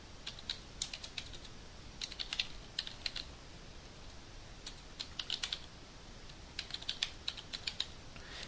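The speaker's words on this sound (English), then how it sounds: "we're just going to go ahead and type it right in" Fingers typing on a computer keyboard in short clustered bursts of light, quick key clicks separated by pauses, close but soft against a quiet background hiss.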